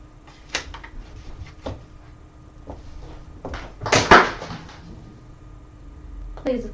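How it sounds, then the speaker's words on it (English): Kittens play in the background of an indoor craft space, sending sporadic knocks, bumps and rattles against objects, with a louder burst of scuffling clatter midway and faint speech-like sounds mixed in. "Please excuse the noise in the background. That is the kittens playing."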